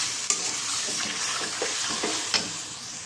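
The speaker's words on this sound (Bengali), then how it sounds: "মাংসটাই এবার আমি একটু ভালো মতন ভেজে নেব।" Chicken pieces for pulao fry in a home kitchen pan with a steady broadband sizzle, broken by several sharp scraping clicks of a spatula as they are stirred, close and fairly loud with no talking.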